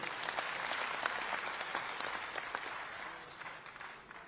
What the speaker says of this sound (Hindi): इसके लिए आप सब लोग एक बार ताली बजाइए